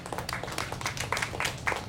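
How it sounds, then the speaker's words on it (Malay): An audience at an evening mini concert with a religious talk in Kampung Baru claps for itself: dense, overlapping handclaps that rise and fall in a steady burst, close and fairly loud, with little talk. "Alhamdulillah, beri tepukan pada diri sendiri."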